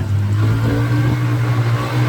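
A low-mileage X&Y XY150 UTV runs during a test drive, its small engine droning with a steady, strong hum and slight revving throughout.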